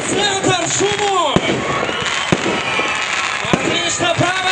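A Youth Day fireworks salute: loud booming bursts and crackling pops repeat every second or so, with whistling rising streaks and a constant wash of crowd noise, close and dense throughout.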